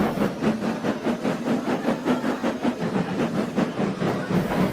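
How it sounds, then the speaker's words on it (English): A train chugs steadily in a regular rhythmic pulse, rumbling and hissing close by with no voices. "dragging Henry and his train into the big station"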